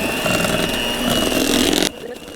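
An electric mixer beating sour cream pound cake batter on a front porch, a loud steady whir close by that cuts off abruptly near the end.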